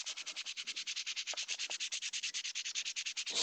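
Sanding a PVC (Sintra) armor plate by hand with 150 grit sandpaper: a steady run of about thirty quick, even back-and-forth rasping strokes, close and fairly loud, with no talking.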